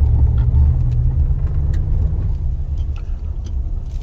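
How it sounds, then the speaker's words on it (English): A Ram truck accelerating hard on a gravel road, its engine producing a loud, close, continuous rumble that holds steady for a few seconds and eases slightly toward the end. "Let's give her a rip here. I'm just going to hit the gas."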